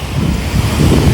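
Strong gusting wind buffets the microphone on a rainy Copacabana street, a loud low rumbling roar that fills the short moment with no voices.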